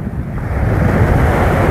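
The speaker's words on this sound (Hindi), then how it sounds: "देख सकते हैं समुद्र का पानी आ रहा है और वापस जा रहा है।" Sea waves rush and wash continuously, a broad roaring surge with wind buffeting the microphone, no voices.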